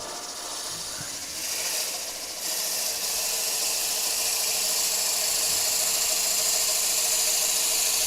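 A large drill bit held in the chuck bores into wood on a woodturning lathe running at about 1,000 rpm, giving a steady, loud hissing whir that thickens partway through and holds to the end.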